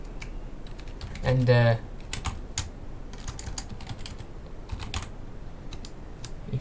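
Rapid computer keyboard typing of a Minecraft command, bursts of close clicking keystrokes spread across the clip, with a brief spoken word partway through.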